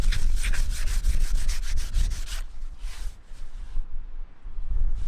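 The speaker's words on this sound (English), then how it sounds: "As soon as you touch it with sandpaper," Sandpaper rubbed by hand over a painted golf cart surface makes rapid back-and-forth scratchy strokes, loud and close at first, then lighter, softer rubbing.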